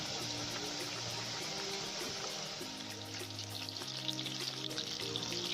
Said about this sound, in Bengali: পকোড়াটা কিন্তু কম আঁচে ভাজতে হবে